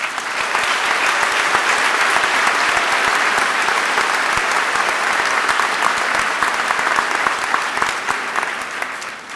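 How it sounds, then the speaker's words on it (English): Sustained applause from a large audience fills a high school gymnasium during a commencement ceremony, loud, dense and steady throughout without speech on top. "join me at this time in a round of applause for all of our K-12 staff"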